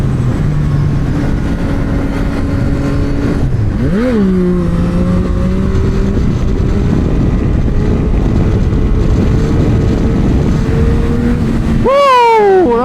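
A 2024 Yamaha MT-09 SP motorcycle engine revs and climbs in pitch during a wheelie, easing off and surging again, then a sharp high-revving burst near the end over steady road noise.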